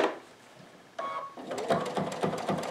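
A sewing machine stitches quilt binding as it finishes a self-bound edge. It is quiet at first, then a burst of rapid mechanical whirring and clicking begins about a second in and continues in quick, rhythmic pulses with no talk.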